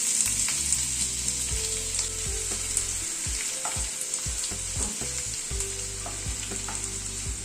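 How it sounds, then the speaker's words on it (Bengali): Chopped onion frying in oil for a Coorg-style chicken curry, a loud, close, continuous sizzle with frequent rhythmic scraping stirs of the spatula across the pan and no speech. "পেঁয়াজটাকে একটুখানি হালকা করে ভেজে নেব।"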